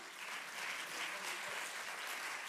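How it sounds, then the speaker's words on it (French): Steady, dense applause from a conference audience at a web festival, a continuous wash of many hands clapping at even loudness throughout with no break. "On l'applaudit très fort"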